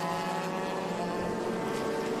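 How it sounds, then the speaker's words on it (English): Race cars at Watkins Glen take the start, a Judd-powered car among them, with a loud, sustained high-revving engine roar that stays close and steady without a break. "That Judd-powered car should just take off. It sounds like a Formula One car."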